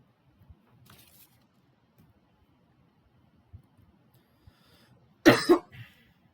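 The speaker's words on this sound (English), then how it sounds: "I've had a bad cough, so that sort of threw me off." A person coughs once near the end, a close, harsh burst after quiet stretches that hold only faint small rustles and clicks.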